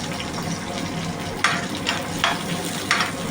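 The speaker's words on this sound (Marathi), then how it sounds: "त्याला परतून घेऊन हे आलं मिरची आणि लसूण तेलामध्ये" Ginger, green chili and garlic sautéing in oil for suran bhaji, a steady loud sizzle with repeated scraping stir strokes against the pan, close up and without speech.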